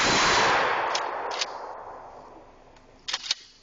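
A shotgun volley fired as a funeral salute rings out outdoors, one sharp loud report that decays slowly with echo, then fainter camera-like clicks and a quick double bang near the end.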